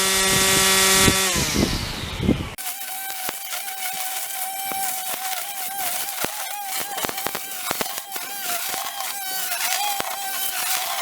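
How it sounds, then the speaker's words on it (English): An EGO 56V lithium-ion cordless string trimmer whirs steadily with a sustained motor tone, preceded by a brief burst of mixed noise at the start, running continuously and fairly close. "Notice that the string trimmer's variable speed. That's low, a little bit more, then full speed."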